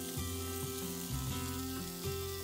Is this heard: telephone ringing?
no